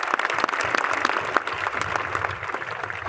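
A crowd claps for Shiv Kumar at a direct-selling success event, a lively burst of applause with distinct individual claps standing out over a sustained patter, moderately loud throughout.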